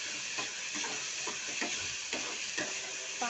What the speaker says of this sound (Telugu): కట్ చేసిన ఆనియన్స్ వచ్చి దీంట్లో ఫ్రై చేసుకోవాలి